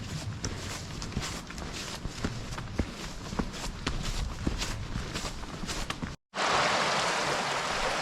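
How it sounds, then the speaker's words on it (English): Footsteps crunch steadily along a forest ridge trail on the Appalachian Trail, close and rhythmic over a constant outdoor hiss, with a brief break before the ambience continues. "Just walking along this little ridge, trees."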